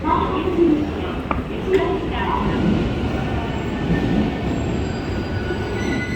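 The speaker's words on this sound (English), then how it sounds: "So we're on the train now." Steady low rumble of a special rapid service train running on rails out of Osaka, Japan, with faint metallic squeals and voices murmuring in the background throughout.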